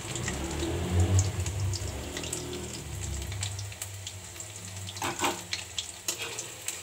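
Cabbage pakora fries in hot oil with a steady, fairly loud sizzling crackle. Sharper spatters and bubbling pops come through near the end. No one speaks.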